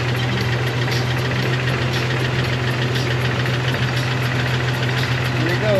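A 2000 Jeep TJ Sport runs at a steady idle while its front driveline, just fitted after an axle replacement, turns with a continuous close hum and faint mechanical ticking and no clunks.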